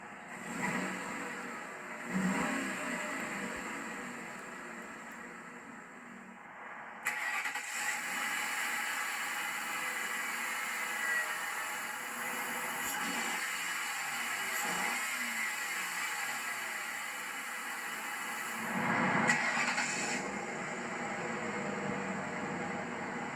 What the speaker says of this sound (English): Beautiful sounding motor.